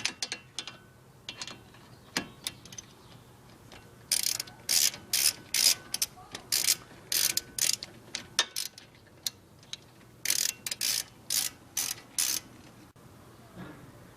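A ratchet tightens brake caliper bolts on a car, sharp clicking bursts in quick strokes, close and fairly loud, with brief pauses between the runs.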